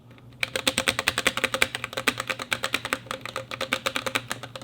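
Rapid, even clacking of keystrokes typed on a Womier K87 Phoenix mechanical keyboard with slightly rattly stabilizers, close and crisp, a continuous run of sharp clicks with no talk.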